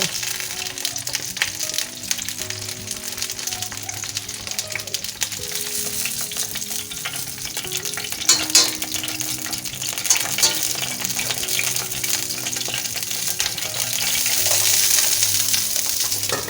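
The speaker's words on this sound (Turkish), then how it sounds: "Patlıcanlarımız yavaş yavaş kızarmaya başladı." Eggplants frying slowly in a covered pan over low heat, giving a steady, moderately loud sizzle with faint crackles that builds slightly toward the end, with no talking.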